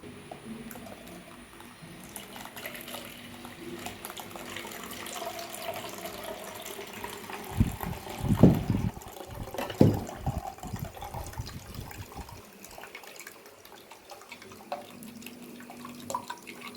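Freshly blended ash gourd juice strained through a sieve, with a cluster of splashing, trickling liquid bursts in the middle over a quiet kitchen background.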